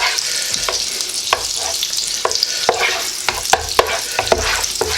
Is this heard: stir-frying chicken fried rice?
yes